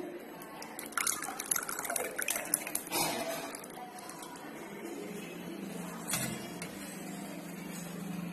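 Salted ragi drink is poured out with liquid splashes and drips, uneven bursts of pouring close by in a kitchen, with brief quieter gaps between pours.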